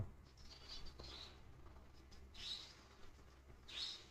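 A bird gives a few faint, high, short calls at scattered moments against a quiet low background hum, with no speech present.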